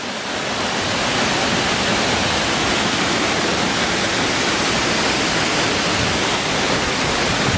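Water pours steadily down a clear mountain stream, making a loud, dense, unbroken rush that fills the whole stretch with no pauses and no voices.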